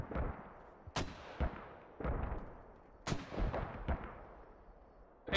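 Mortar artillery fire in the Star Wars Galactic Contention video game: a series of heavy booming impacts roughly every second or two, each with a sharp onset and rumbling decay, loud and close with no talk.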